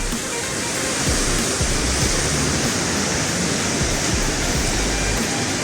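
A constant roaring rush of falling water, dense and unbroken, from mountain waterfalls heard fairly close on the trail from Gobindghat to Gobind Dham, with no voices over it.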